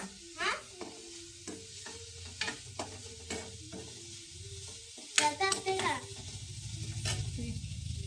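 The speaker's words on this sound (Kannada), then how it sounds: "ಅರಿಶಿನ ಹಾಕ್ಬಿಟ್ಟು ಮಿಕ್ಸ್ ಮಾಡ್ತಾಳೆ." Onion churumuri is tossed and mixed with turmeric by hand, making soft scraping and stirring noises in short bursts, quiet and close, with a busier rustle near the end.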